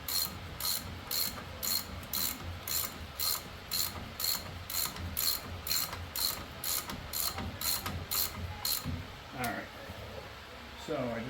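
A Craftsman 3/8 drive ratchet clicks in a rapid, evenly paced run of sharp pawl ticks, close and loud, during brake rotor work on a first-generation Chevrolet Colorado, then stops as a few lighter metallic handling sounds follow.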